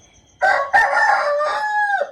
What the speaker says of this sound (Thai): ยินบ่ทุกคนเสียงไก่ขัน